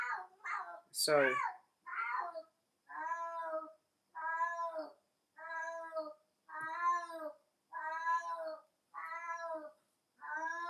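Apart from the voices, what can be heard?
cat meowing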